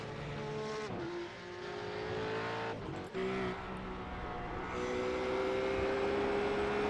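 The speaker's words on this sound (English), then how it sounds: "Haslam's going to have something to say about that here as he wheels right on by Mitchell." Supercars race cars at Spa, one overtaking another, with loud sustained engine whine rising and shifting pitch through gear changes, a brief dip around the first second and a steady high tone building toward the end.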